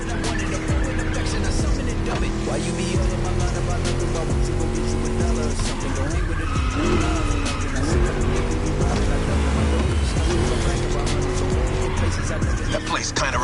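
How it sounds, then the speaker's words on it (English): A V8 race car in The Crew Motorfest roars continuously at full throttle through a lap, tires squealing in places, with a voice talking over the engine throughout. "Just listen to that V8 like a chunky, down-tuned guitar riff"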